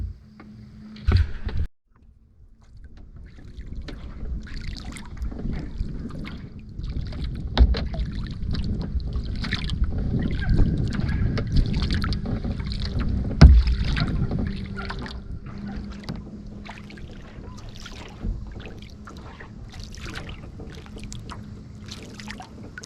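Steady kayak paddle strokes splash and swish through shallow water, with occasional knocks against the hull and light wind noise in the background.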